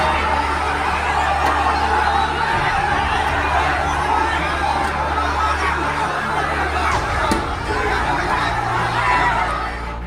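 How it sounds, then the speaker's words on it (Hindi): A large crowd of rioters at an anti-Waqf law protest chases a police jeep, a continuous loud hubbub of many voices and shouts, with some low rumbling underneath. "दंगाइयों की ये भीड़ जीप को खदेड़ रही है"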